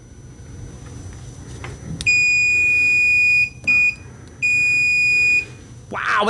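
A FNIRSI DMT-99 multimeter sounding its continuity beep at maximum volume: three loud, piercing, steady electronic tones of about a second each, separated by brief gaps, heard close over a low background hum.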